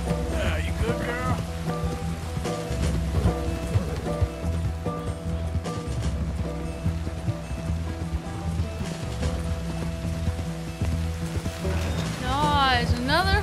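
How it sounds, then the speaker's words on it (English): Steady downpour with thunder in the Red Dead Redemption 2 game during a horse chase, a continuous hiss of heavy rain under in-game music, with occasional whooshes and a swell near the end. "Gosh, another horse chase, and it's raining. This is like a Florida downpour."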